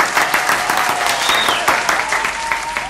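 A studio audience applauds loudly as a comedy talk show opens, energetic clapping with sharp individual claps and some cheering, close and continuous.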